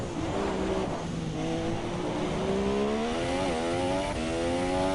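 F1 race car from the F1 2017 game at full throttle on a flying qualifying lap toward turn 1, a loud, steady high-pitched engine whine that climbs through the gears with brief shifts, continuous throughout.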